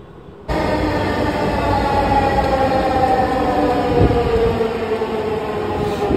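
A metro rail train at Kazipara station rumbles loud and close in a steady, continuous roar after starting abruptly, with high whining tones running throughout.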